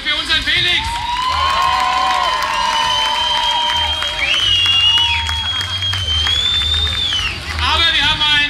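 An audience at a village Kerwe fair show applauds loudly and continuously, with cheering, whoops and sustained whistling tones over the clapping throughout.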